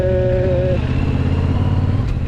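A Yamaha MT-07 motorcycle being ridden out on a mountain trip, giving a loud, close, steady engine drone with a constant low throb and no voices over it.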